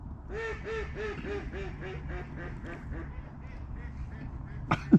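Ducks quacking nearby beside a winter fishing lake, a rapid series of nasal, honking calls in a run that gradually thins out, followed by a couple of sharp handling knocks close to the microphone.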